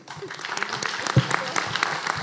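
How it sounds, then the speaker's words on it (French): Applause from an audience at a French literary meeting with an award-winning author, a short burst of dense clapping mixed with crowd murmur and voices in a room. "Et ça justifie absolument pas des applaudissements"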